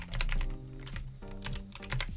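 Rapid typing on a computer keyboard, entering a search in the Wix Studio editor's add-on library, with clusters of sharp clacks and brief pauses, close and steady throughout.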